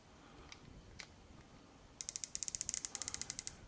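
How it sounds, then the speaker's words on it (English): A budget red/green dot sight has its adjustment turret turned with a screwdriver, giving a rapid run of crisp, close ratcheting clicks after a few scattered faint taps, with no talk. "I'm going to hold it up so that you can hear the tactile turns."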